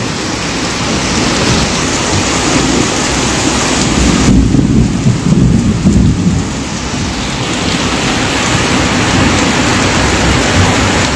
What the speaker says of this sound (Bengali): আরও জোরে বৃষ্টি হচ্ছে এবং মাঝে মধ্যে কিন্তু বিদ্যুৎও চমকাচ্ছে আরও জোরে নেমেছে এই মুহূর্তে বৃষ্টি মুসলধারায় বলা চলে বৃষ্টি নেমেছে